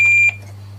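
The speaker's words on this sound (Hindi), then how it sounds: "बजर प्रेस किया है" A quiz show contestant buzzer pressed on a junior quiz program, one short bright electronic tone that cuts off abruptly over a steady low hum.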